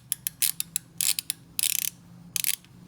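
A ratchet works on the exhaust pipe nuts of a Yamaha V-Star 1100 motorcycle, making close, crisp clicking in short strokes and quick clustered bursts, with brief pauses between strokes.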